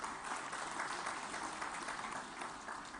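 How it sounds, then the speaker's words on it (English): Audience applause follows the launch of a mobile app at a PLASTINDIA 2023 event, a fairly quiet, even patter of many hands clapping that continues steadily with no voices. "may I hear a big round of applause for this"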